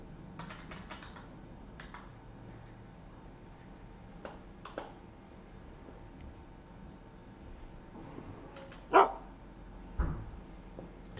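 A dog in the survival game UnReal World gives a couple of short barks near the end, mixed with scattered clicks of computer keyboard typing over a low background.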